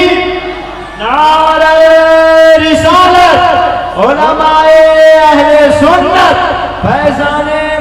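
A crowd at a mosque gathering in Delhi's Jama Masjid chants a loud, harmonious response to the Nara-e-Takbir call, with several surging, sustained vocal waves close and full, briefly dipping between repetitions.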